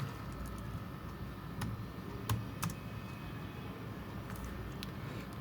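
Sparse keystrokes on a computer keyboard while entering text in Adobe Illustrator, a handful of separate clicks spaced irregularly over a steady background hiss, close and quiet with no voice.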